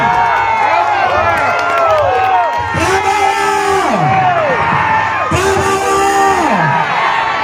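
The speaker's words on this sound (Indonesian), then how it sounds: "Balik terus tepuk tangan." A large crowd at the inauguration of a Gerindra party regional office cheers loudly, with rising whoops and chanted shouts repeating over a constant roar of voices.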